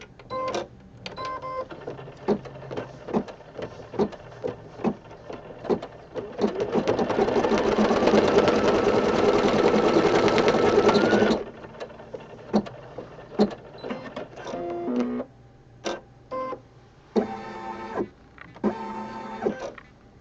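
A home embroidery machine stitches a placement line onto fabric, starting with scattered clicks and short mechanical whirs, then running in one steady, fast, buzzing burst for about five seconds before stopping into further intermittent clicks and brief motor bursts.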